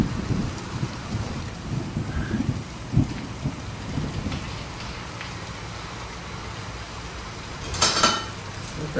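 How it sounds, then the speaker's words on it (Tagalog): Heavy rain pours down outside a home kitchen during a Filipino cooking session. The steady downpour hisses throughout, a low thunder rumble rolls under it, and pots or dishes clatter briefly near the end. "Talaga nang umuulan."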